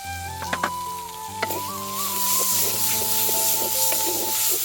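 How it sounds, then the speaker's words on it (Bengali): Ginger-garlic paste hits a pan of fried onions and chopped green chillies, giving a steady, close sizzle with a few stirring knocks early on, under faint tonal background sounds and no talking. "এখন আমি আদা রসুনের বাটাটা দিয়ে দেব।"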